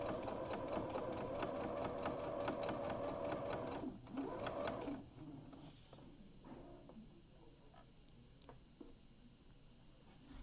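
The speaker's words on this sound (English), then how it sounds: "You're just sewing through multiple layers, and it takes the machine just a second to kind of recognize that." A sewing machine runs through several fabric layers of a drawstring bag, a fast, loud rhythmic stitching that pauses briefly, resumes, and then stops, leaving faint clicks and handling.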